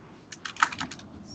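Quick, light clicks of typing on a computer keyboard, a short run of about ten soft keystrokes, close by and quiet, with no one talking over them.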